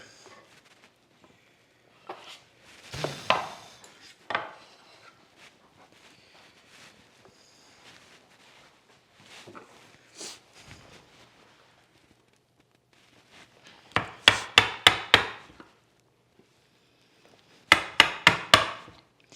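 Chisel chopping into wood to clear the waste of a bridle joint, heard as scattered single knocks followed by two tight bursts of rapid mallet blows, close and fairly loud in a quiet workshop.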